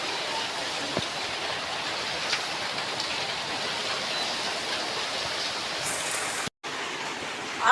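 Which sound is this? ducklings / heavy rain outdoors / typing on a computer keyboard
heavy rain outdoors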